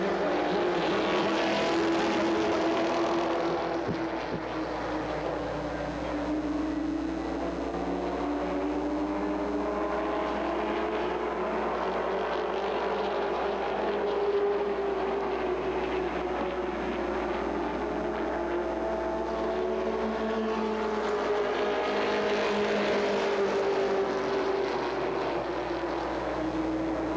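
Late model stock cars roar steadily at Peach State Speedway in Jefferson, Georgia, holding a continuous, loud engine drone with rising and falling pitch as the field runs toward the green flag, with no talk.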